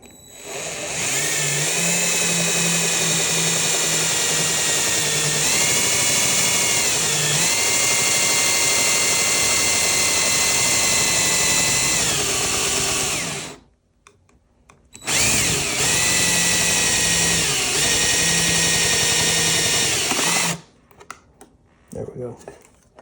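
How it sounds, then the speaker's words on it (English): A power drill bores an oversized hole in a camper's shower curtain track, running loud and close in one long steady burst, then a shorter second burst after a brief pause. "We're going to drill an oversized hole there."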